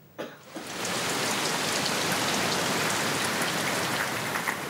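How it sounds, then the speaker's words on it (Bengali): Steady, dense rain falls and patters on surfaces. It starts after a brief quieter moment and then holds as a loud, even hiss throughout, with no voices. "স্বস্তির বৃষ্টি"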